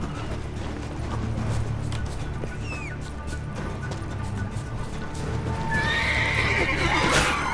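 In The Witcher 3: Wild Hunt, a horse whinnies loudly near the end, following a run of clip-clopping hooves and clanking game sound effects.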